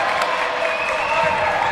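Loud high school basketball crowd cheering and roaring steadily throughout, dense broadband noise with no distinct pauses.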